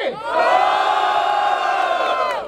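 Loud crowd of spectators at a hip hop battle final erupts in cheering and shouting, holding a dense, sustained roar before easing slightly at the end.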